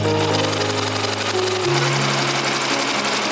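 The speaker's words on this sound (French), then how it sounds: "je vais venir coudre une première fois" A sewing machine runs steadily as it stitches two pieces of fabric placed right sides together for a pair of Majam palma shorts, a loud continuous mechanical whir with a humming motor tone that shifts slightly in pitch.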